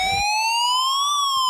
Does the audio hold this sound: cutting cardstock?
no